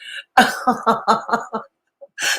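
A burst of harsh, rapid coughs close up, about six in quick succession, followed by a short pause and one more cough.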